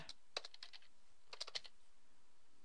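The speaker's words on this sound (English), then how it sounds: "you can type GDP data" Quiet keystrokes on a computer keyboard, two short bursts of light clicking separated by a pause, faint and close with no voices.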